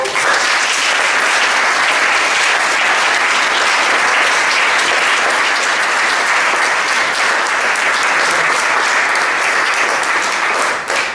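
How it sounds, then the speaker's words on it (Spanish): Audience at a climate change talk event giving sustained, dense applause, loud and even for the full stretch, a wash of many hands clapping together with no voices standing out. "Le podemos darle un gran aplauso."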